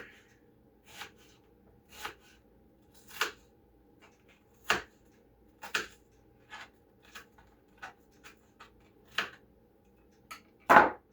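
A knife dices onions on a cutting board in sharp, separate strikes, slow at first and then quicker, close up against a quiet background.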